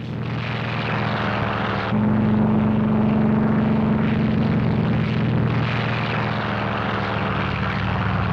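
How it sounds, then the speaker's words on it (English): Wartime propeller warplanes drone steadily in a sustained aerial assault, a loud continuous engine roar with a rising pitch as one aircraft passes close, no voices over it. "Admiral Mark A. Mitcher's tireless Task Force 58 stepped up its 2-week-old aerial assault on Kyushu and the enemy home islands."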